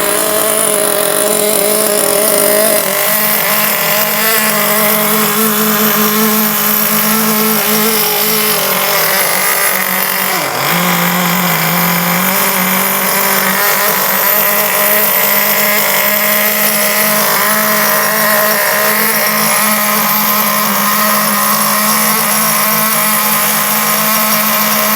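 Nitro combustion engine of an RC car running on its first start, a loud, close, buzzing rasp held steady for the whole stretch with one brief dip in pitch midway.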